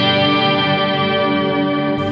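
Electric guitar through a Walrus Audio Fathom reverb pedal on its octave setting: one sustained, shimmering chord with a thick octave-doubled wash, held loud and steady for about two seconds before it begins to fade.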